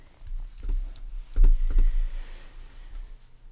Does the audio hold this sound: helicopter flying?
no